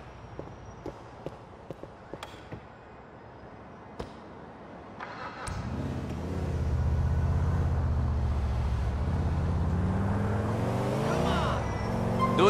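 A car in GTA 4: footsteps and clicks at first, then an engine starts and drives, rising to a steady loud rumble with shifting pitch as it accelerates.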